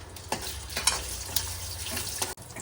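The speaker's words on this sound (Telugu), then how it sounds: "ఇప్పుడు ఇందులోకి ఎండుమిర్చి వెల్లుల్లి వేసుకొని కాసేపు వేయించుకుందాం" Dried red chillies and garlic fry in oil in a pan for a tindora chutney, a steady sizzle punctuated by several sharp scraping stirs, ending in a brief abrupt knock.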